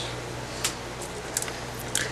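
Lavender hydrosol misted from a small spray bottle during a craft project: a few short, soft hissing spritzes spaced apart over a quiet background, close by.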